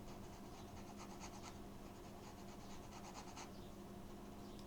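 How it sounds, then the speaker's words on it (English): Dry brush rubbing paint onto paper while painting an umbrella with flowers, a soft continuous scratchy rasp with repeated short strokes in a quiet room, no talking. "if it's dry, you just rub it in as a dry brush"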